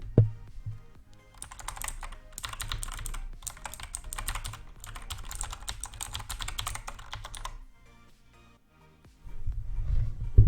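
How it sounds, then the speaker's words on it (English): Fast, continuous typing on a Razer BlackWidow Elite Chroma mechanical keyboard, dense crisp clicky keystrokes recorded up close and loud, with a brief pause before the typing trails off near the end, no talking. "this is a quick tester of how clicky the keyboard actually is"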